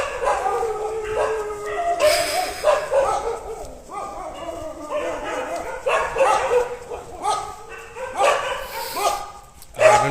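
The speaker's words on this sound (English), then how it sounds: "Oh man, there's a dog." A dog barking and yelping in repeated bursts, mixed with whimpers and a howl, moderately close, with no talk over the barks.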